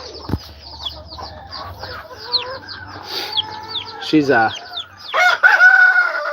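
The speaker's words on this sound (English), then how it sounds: "DeKalb chickens. They're a Leghorn something cross." DeKalb Leghorn-cross hens cluck and chatter near and far in a farmyard, with a rooster's crow and rising squawks toward the end, while a person speaks briefly.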